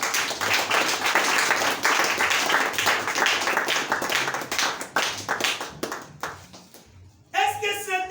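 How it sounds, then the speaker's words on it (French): A church congregation clapping and cheering loudly, a dense continuous wash of hands with voices mixed in, fading out near the end before a voice speaks. "Acclamez très fort."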